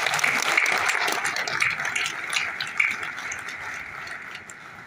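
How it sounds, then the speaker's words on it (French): Audience applause at the official launch of a book marking twenty years of coupé-décalé music, a steady dense clatter of many hands that holds at an even level throughout without a break. "Merci de les applaudir."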